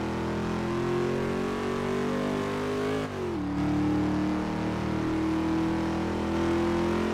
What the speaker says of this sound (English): I still don't understand why the exhaust sounds are so loud in this game.